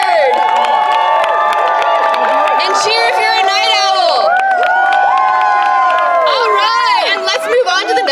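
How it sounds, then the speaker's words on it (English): An audience at a variety show cheers and shouts loudly, with many voices, some of them children's, yelling and whooping together in a sustained burst. "Give a cheer if you're an early bird! And cheer if you're a night owl!"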